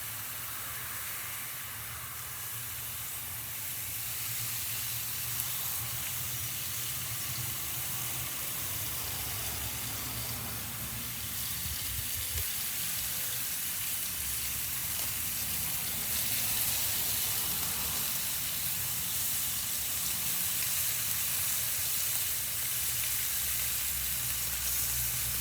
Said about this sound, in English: Get some bacon strips on.